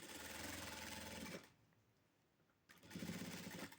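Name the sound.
sewing machine stitching a blouse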